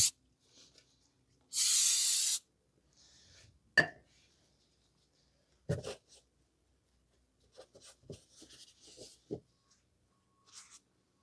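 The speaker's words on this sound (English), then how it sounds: "I'm just going to wash the area down with brake cleaner" Brake cleaner sprayed from an aerosol can to wash down the engine area of a 2023 Mazda CX-5 2.5 after an oil change, a single loud hiss of about a second, followed by scattered faint clicks and handling noises.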